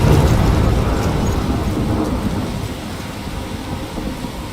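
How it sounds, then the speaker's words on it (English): Thunderstorm with heavy rain in the video game Life is Strange: a dense, steady roar of rainfall with low rumbling thunder, loud at the start and easing slightly, with no voices. "I'm trapped in a storm?"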